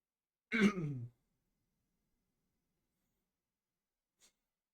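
A single short throat clearing up close, followed by near silence and a faint tiny click at the end.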